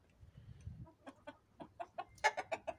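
Adler silver hens clucking with roosters in a backyard flock, a run of short, close clucks and calls growing louder and more frequent toward the end, with no talk.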